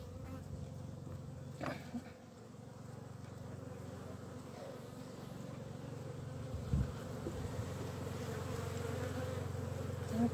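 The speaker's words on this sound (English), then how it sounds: "The bees seem busy enough." Honey bees buzz continuously around an open beehive on a sunny day, a dense, steady droning hum close by with individual bees passing near, and a brief rustle partway through.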